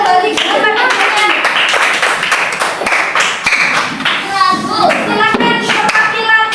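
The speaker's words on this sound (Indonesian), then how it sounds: "Tepuk tangan untuk kita semua, luar biasa." A group of people clapping together in a classroom, dense bright hand claps rolling steadily and loudly for several seconds, with a few voices mixed in.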